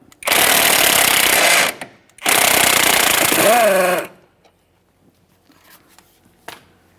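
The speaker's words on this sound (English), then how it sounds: "While holding that, let's remove our mounting nut." A power impact tool removing the strut mounting nut on a 2010-2013 Kia Forte Koup, two loud close hammering bursts of a few seconds each, followed by faint clinks and handling noises.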